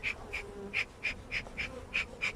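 Honeybees buzz during a hive inspection, eight short, evenly spaced whines passing close, as single bees fly by over a soft background hum.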